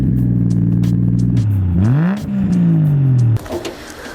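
A 1JZ-swapped Lexus IS200 with a decat, 3-inch custom turbo-back exhaust and rear silencer revs loudly up and down several times nearby, then cuts off with a clatter.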